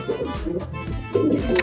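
Pet pigeons from a paired breeding set, including a green-eyed bird, coo in soft low throaty bursts close by over a little under two seconds, with a faint background murmur.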